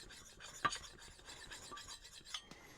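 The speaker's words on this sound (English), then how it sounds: "because I'm essentially polishing that edge" A pumice stone rubbed along the edge of a Kalthoff carving axe in short, quiet rasping strokes, soft and close, with a few brief louder scrapes and no talking.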